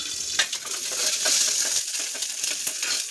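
Garlic cloves and small onions fry in hot oil in a pan. A close, busy sizzle crackles throughout, broken by scraping stirs. No one talks.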